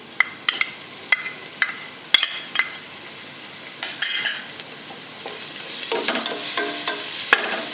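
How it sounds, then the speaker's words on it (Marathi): A coarsely ground spice paste fries in a pan after onions, for a spicy masale bhat, with a soft steady sizzle and repeated sharp spoon scrapes and taps as it is stirred, close and without speech. "वाटण 1 मिनिटभर परतून द्यायचं।"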